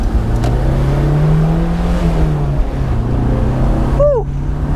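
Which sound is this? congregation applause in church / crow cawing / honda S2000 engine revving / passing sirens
honda S2000 engine revving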